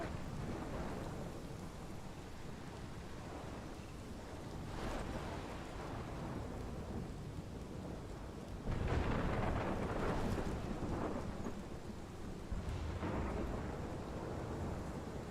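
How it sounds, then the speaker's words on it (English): A thunderstorm in the Life is Strange video game, steady heavy rain and wind with repeated deep rolling thunder bursts, the loudest crash arriving about two-thirds of the way through. "This is my storm."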